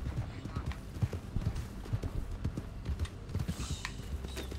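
Hooves clip-clop in a quick, even rhythm in Red Dead Online, close and fairly faint, with small clicks mixed in.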